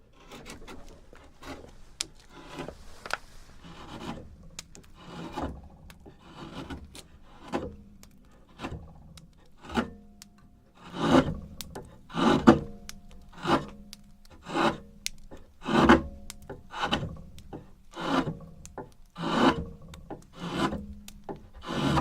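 A hand saw cuts through wood in repeated rasping strokes that grow louder and more regular as the cut progresses, close and clear with no talk.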